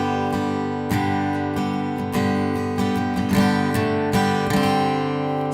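Steady acoustic guitar strumming of the Firm Foundation intro with single melody notes hinted within the chords, a continuous rhythmic pattern of crisp strokes, close and alone with no voices.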